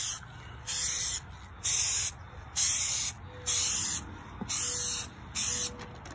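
Short bursts of aerosol spray from a can of Dupli-Color paint, laying a boat name through a stencil onto the bottom of a Zodiac 310S inflatable dinghy: five or six loud hissing blasts with brief gaps between them, close up and without speech.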